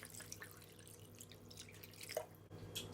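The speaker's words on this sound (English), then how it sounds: "And I'm going to add water." Water poured into a pot of seasoned meat while cooking ayamase stew, a soft dripping, trickling splash running steadily for a few seconds at low level with no talking.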